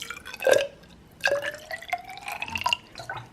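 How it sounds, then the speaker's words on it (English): Bleach being poured into a graduated cylinder: a dripping, splashing trickle of liquid against glass in two short bursts, close and fairly quiet, with no talking. "take some of the bleach and pour it into the graduated cylinder"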